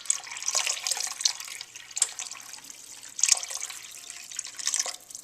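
Water pours into a pot of chicken and dumplings with instant bouillon, a close, steady splashing trickle with intermittent brighter bursts throughout.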